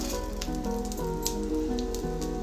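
Mustard and cumin seeds sizzle and crackle steadily in hot oil in a pan on a stove, a close continuous frying hiss with faint popping throughout.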